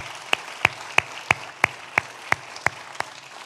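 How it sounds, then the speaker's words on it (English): Applause at the University of Wolverhampton alumni awards evening: one nearby pair of hands claps crisply and evenly, about three times a second, over a softer, steady bed of wider crowd clapping. "Let's give her a clap."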